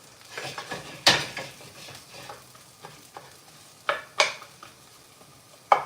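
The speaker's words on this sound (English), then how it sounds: "The onions and the garlic go in first. We saute that in the oil." Onions and garlic sautéing in oil for a beef filling, a soft steady sizzle broken by several sharp spoon scrapes and clinks against the pan.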